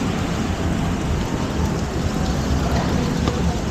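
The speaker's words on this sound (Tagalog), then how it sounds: "Naulan." Steady rain pours down in a dense, even hiss that stays loud and unbroken throughout, with no voices over it.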